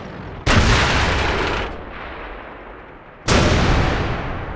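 Heavy artillery fire from the tank game World of Tanks, Clan Wars battle: two loud, near booming blasts about three seconds apart, each leaving a long rumbling tail across the whole range.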